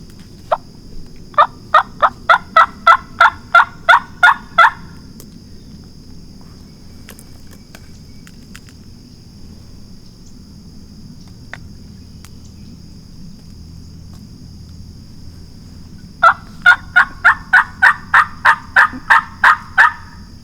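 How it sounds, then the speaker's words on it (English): A wild Osceola turkey gobbles in Florida woods, with one rapid rattling burst near the start and a second about fifteen seconds later, both clear and fairly strong over a steady insect hum. "We think the turkey that answered is one that we heard way off early this morning that was not part of one of the flocks."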